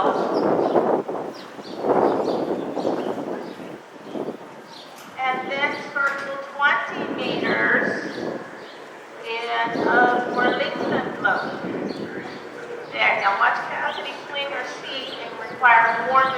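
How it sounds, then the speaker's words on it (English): Horses in an arena at a working lope during a western dressage presentation at the 2014 Equine Affaire: soft rhythmic hoofbeats and movement noise under an instructor's amplified talk throughout, with some wind on the microphone. "And Cassidy, if you would please pick up your working lope."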